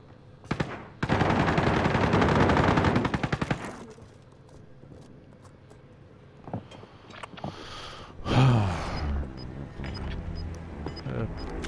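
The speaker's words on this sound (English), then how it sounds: "Small caliber rounds here." Small-caliber automatic gunfire in Call of Duty Modern Warfare: a loud, rapid burst of shots lasting a few seconds, followed by scattered single shots, clatter and a rumbling vehicle-like noise at moderate distance.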